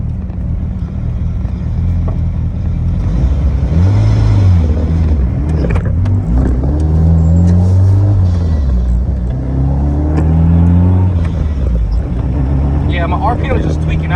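A car's engine drones and revs unsteadily from inside the cabin on a first drive after a fuel leak repair, pitch rising and falling through several swells under a constant road rumble, with a person talking over it.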